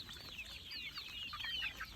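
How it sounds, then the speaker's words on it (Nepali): Local-breed chickens cluck and chatter under a raised shelter on a small farm, a steady stream of soft, overlapping calls with no talking. "यो प्योर फेरि लोकल प्रजातिकै कुखुरा हो यो"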